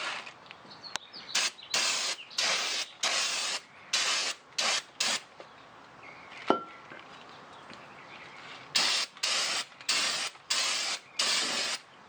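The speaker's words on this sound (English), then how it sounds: "so you want to spray it before you put it on." Repeated short hissing bursts from an aerosol can of starting fluid during brake work on a Saturn Ion, about a dozen sprays in two clusters with quiet gaps between them, close by with no talking.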